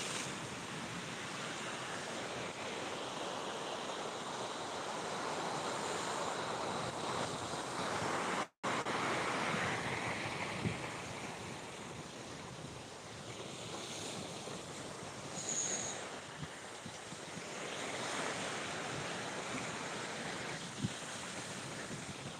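Sea waves wash steadily onto Digha beach beside the marine drive road, a continuous broad roar of surf with wind buffeting the microphone and a brief dropout partway through.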